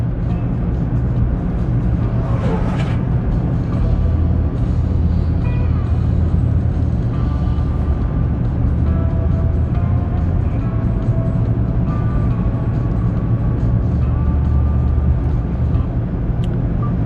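A car cruises along a Southern California road, steady broadband road and engine rumble filling the cabin at constant loudness with no talk.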